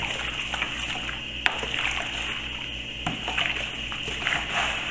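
Homemade liquid laundry soap, made from concentrated base with alcohol just added, is stirred in a container, producing close, irregular sloshing and small splashes with a couple of sharper knocks.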